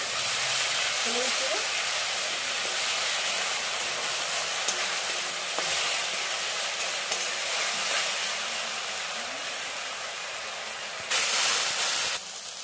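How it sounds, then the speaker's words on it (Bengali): Spice paste with onion, garlic, chilli and ginger frying in a pan for a chicken chop filling, giving a steady broadband sizzle and hiss that runs throughout with occasional stirring scrapes, fairly close and without speech. "দিয়ে দেবো মশলা পেস্ট, পেঁয়াজ, রসুন, লঙ্কা, আদা সব কিছু ভালো করে ভেজে নেব"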